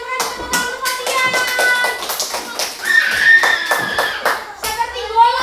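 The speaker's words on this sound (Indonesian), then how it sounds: "Tepuk tangan untuk Fabian." Children clap together in a classroom, a burst of sharp rhythmic hand claps filling the room, with a voice and some chatter mixed in near the end.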